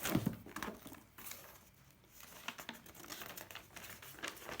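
Paper shipping documents taken off an overseas parcel of fishing tackle crinkle and rustle softly up close, in a loud burst at first and then quieter, irregular handling.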